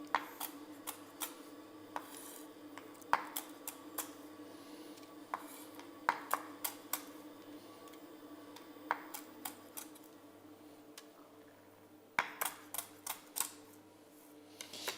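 A small knife coarsely chops pecan nuts on a board for a pecan tart, with quiet sharp irregular taps and cracks, close by, over a faint steady kitchen hum and no talking.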